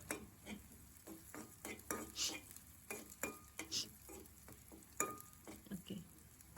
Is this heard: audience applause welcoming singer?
no